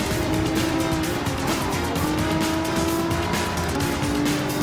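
A Nissan 400Z fitted with a Nissan GTR engine roars steadily in a racing video game, its engine note rising and shifting continuously with faint tire squeal, loud and unbroken with no voices.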